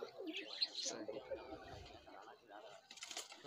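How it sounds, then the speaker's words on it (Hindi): Soft, low coos of double-eyed pigeons mixed with faint chirps, quiet and close, with a person talking over the birds. "ये सब ये मेरे डबल आँख वाले कबूतर हैं, आफ्ताब भाई वाले"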